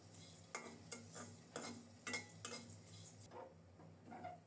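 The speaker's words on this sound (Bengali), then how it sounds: "সরিষার তেলে অল্প কিছু চিড়া ভেজে নিচ্ছি" Flattened rice (chira) frying in mustard oil over medium heat, with a soft sizzle beneath a series of scraping stirs and clinks from a utensil against the pan at a quiet level.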